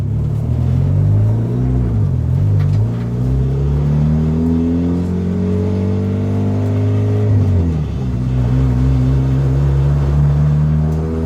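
A Mitsubishi Eclipse engine with a vacuum leak runs loud and close from inside the car, rising and falling through several gear changes with a steady droning hum, alone with no voices.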